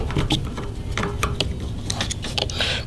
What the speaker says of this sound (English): you remove the bottom screw